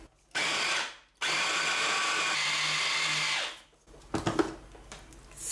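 An electric chopper whirs in two loud sustained bursts, chopping and mixing vegetables and herbs for a homemade vegetable paste, followed by rattling and clattering as the bowl is handled.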